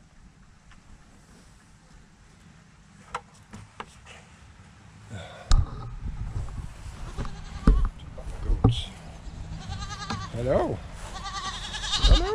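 Goats on a homestead bleat in several short calls across the second half, near and fairly loud, over outdoor background noise while a person greets them.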